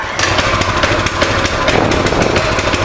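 A Coleman CT200U mini bike's small engine catches after a pull start and runs loud and close with a rough, rattling, steady drone.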